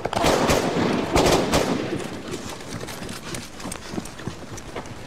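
Rapid crackling gunfire in dense irregular volleys, loud at first and then thinning into scattered distant pops.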